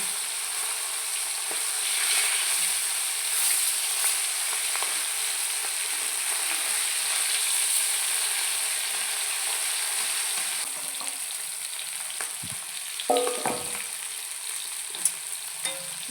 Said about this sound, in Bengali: এবার মাছ ভাজা হয়ে গেছে আমি মাছগুলো তুলে নিচ্ছি